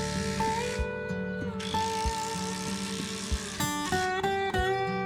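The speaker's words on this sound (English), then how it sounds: "These Torx head concrete screws don't require a plug, but I do want to make sure that they go straight into brick rather than the mortar lines." Power driver sinking Torx head concrete screws into brick, a steady whirring motor hum with rhythmic clicking as the screw turns, closing in a few short bursts of higher-pitched driving, no talk.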